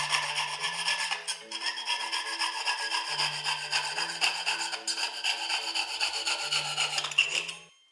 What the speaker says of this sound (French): il n'y a plus qu'à scier.